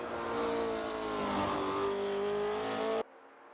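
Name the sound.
classic GT race car engines at Silverstone, from video game Assetto Corsa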